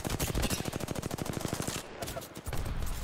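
Rapid automatic gunfire from the Apex Legends battle royale shooter rattles out in a loud, steady stream of shots for nearly two seconds, then breaks off into quieter in-game noise before a short louder burst at the end.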